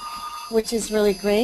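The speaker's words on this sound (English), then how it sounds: "Sorry about the phone. I don't know how to stop it." An office telephone rings as a steady electronic tone in the opening half second, then a person keeps talking over the fading ring.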